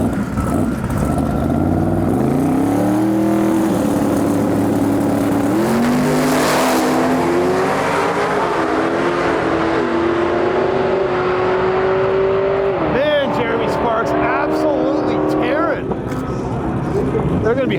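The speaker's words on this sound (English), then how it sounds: "we got another really fast Mustang pulling up the line right now" A very fast Mustang drag racing a Cadillac CTS-V Coupe at a drag strip: loud, sustained engine roar climbing through repeated gear changes, with rising revs and a sharp shift pattern, close and dominant, fading near the end with crowd noise.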